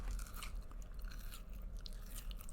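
Someone chews crunchy crystallized candied ginger close to the mic, making a faint, continuous stream of crackly bites and grinding, with no talking.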